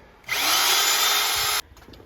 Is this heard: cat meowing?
no